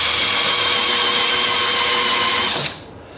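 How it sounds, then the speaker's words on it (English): A power drill bores a countersink into a wooden hole for a flip-up table saw extension, a loud close steady whine that cuts off abruptly near the end, with no talk. "Now I'm just countersunk the top side of the hole"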